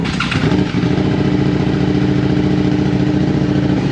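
A Suzuki SV motorcycle on its stand catches and settles into a loud, steady idle with a deep, throaty rumble from a slip-on aftermarket exhaust, close by and without talk.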